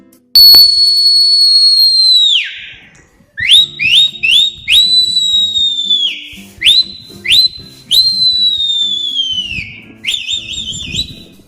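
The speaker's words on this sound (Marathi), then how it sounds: "एखाद्याला जर बोलवायचं असेल आपल्याकडं त्याला जर जागा करायचं असेल तर आपण शिट्टी सुद्धा मारतो" Loud, piercing human whistles close by: long sliding calls mixed with short rising chirps, repeated again and again as if summoning someone.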